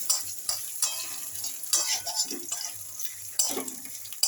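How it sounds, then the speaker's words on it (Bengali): Grated coconut fries in oil for a vegetarian ghugni, crackling and sizzling steadily at close range, with repeated scraping as it is stirred in the pan. "নারকেলটা ছেড়ে দিলাম তেলেতে। নারকেলটা একটু ভাজা ভাজা হবে"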